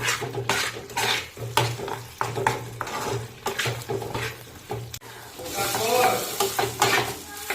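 Ridge gourd paste with salt, turmeric, cumin powder and a little sugar is stir-fried in a pan, giving repeated scraping strokes over a bright sizzle, with a low steady hum beneath.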